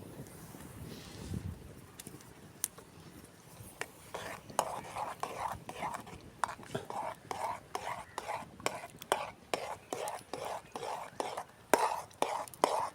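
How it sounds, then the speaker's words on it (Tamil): Steady, rhythmic scraping of a spoon stirring semolina into boiling water in a pot, close by, with quick repeated strokes over a soft background hiss. "தண்ணி கொதிச்சிருச்சு, போட்டு கிண்டுவோம்"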